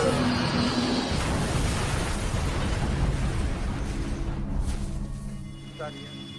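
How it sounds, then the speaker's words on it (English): An airliner crashes and explodes on impact with the ground, a loud roaring blast that fills the opening seconds and then slowly fades out. "The fiery explosion and sudden impact with the ground has all but obliterated Flight 2120."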